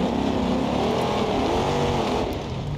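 A supercharged V8 drift car engine in BeamNG.Drive, running hot and overheating, drones loudly and steadily throughout, with engine tones rising and falling slightly over a continuous roar.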